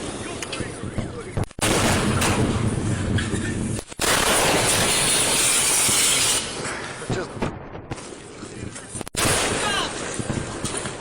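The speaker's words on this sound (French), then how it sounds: "ils vont entendre le bruit de l'explosion" Explosion heard during a segment about space rocks hitting overhead, with loud broadband bursts and blasts separated by brief cutouts, dense and sustained, with voices mixed in.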